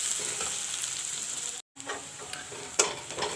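Onions sizzle steadily in a pan, a fairly soft continuous hiss broken by a short gap and a couple of faint clicks or taps, with no talking.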